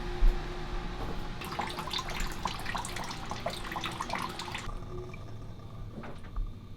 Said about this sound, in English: That's running water right there.